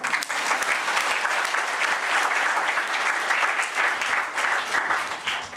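A church congregation at a Hindi sermon claps for a blind brother, a full, steady burst of many hands, close and loud, continuing evenly without speech.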